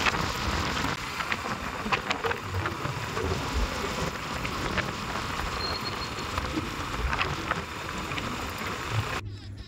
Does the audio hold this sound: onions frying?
no